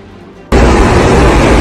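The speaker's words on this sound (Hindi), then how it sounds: "एयरबेस के अंदर धमाका हुआ।" A sudden, very loud explosion at an airbase erupts after a quiet moment, then sustains as a dense, roaring rumble that fills the rest of the clip.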